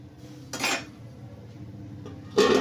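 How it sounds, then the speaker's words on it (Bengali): Metal lid set onto a cooking pot of potato and kundri curry after water is added, two bright clanks of metal on metal a couple of seconds apart, close and fairly loud, without speech. "ঢাকা দিয়ে দিলাম।"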